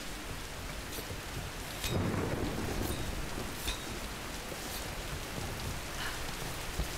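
Heavy rain pours steadily while a deep rumble of thunder rolls in, with dense continuous hiss throughout, in the video game Tomb Raider (2013).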